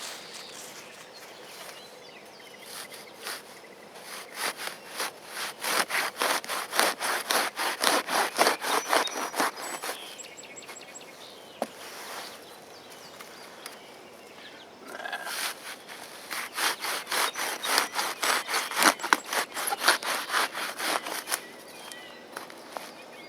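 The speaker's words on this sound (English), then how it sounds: "Got my little handsaw. Let's start cutting." A small handsaw cuts through a year-old dried root ball of fibrous roots in a raised wood chip garden bed, giving close, rhythmic rasping back-and-forth strokes in two long bursts separated by a short pause.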